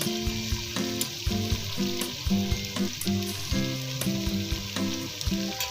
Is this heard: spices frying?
yes